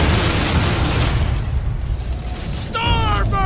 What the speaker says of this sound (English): Cannons! Brace yourselves!